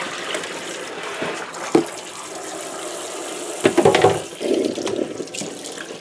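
Cold water runs steadily from a tap into a sink while a tie-dyed T-shirt is rinsed, with splashing and sloshing bursts as the wet fabric is moved under the stream, close and continuous without talk.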